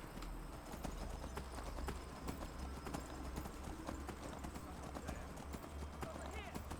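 Horse hooves clip-clop at a steady trotting rhythm in Skyrim, close and continuous, with someone talking over the hoofbeats.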